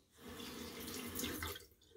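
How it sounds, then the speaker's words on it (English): Cold tap water runs into a sink while a face is rinsed after a shave, a steady close splashing rush that lasts about two seconds and then stops. "Rinse with cold water, very refreshing for the face."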